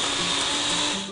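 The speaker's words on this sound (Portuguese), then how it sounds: "Tampa o liquidificador e vamos bater." Blender whirring steadily as it mixes banana, curd, pineapple juice, ice and a little sugar, a loud continuous motor hum that winds down at the end.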